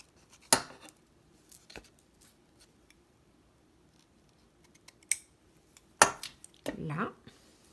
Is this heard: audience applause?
no